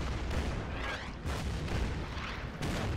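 Artillery fire booms in the Order of Battle: Burma Road war game, a series of heavy, rumbling blasts that follow one another closely at a loud, steady level.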